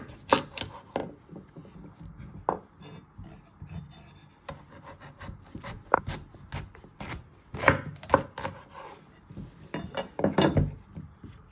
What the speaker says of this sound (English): You're first going to chop the ends off.